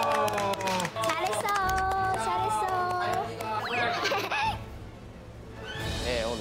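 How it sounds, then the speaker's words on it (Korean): Group of people clapping at the end of a pansori singing lesson: steady dense applause from a small crowd mixed with lively voices, laughter and someone talking over it, close and fairly loud. "박수."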